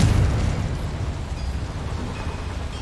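Fiery Confringo spell blast in Hogwarts Legacy, a loud booming burst at the start that settles into a sustained low rumble and crackle, with no talk.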